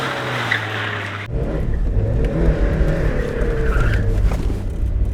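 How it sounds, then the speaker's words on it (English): A stock Mazda MX-5 Miata NA loops in circles, its engine droning and revving while tires squeal and skid steadily, loud and close with no talk over it. "I am literally just driving around in circles"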